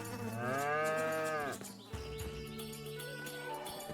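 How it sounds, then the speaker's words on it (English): A cow moos in the video game Shenmue III, one long, loud, strained low bellow that breaks off partway, followed by quieter ambient game sounds. "Why does that one cow sound like it's dying?"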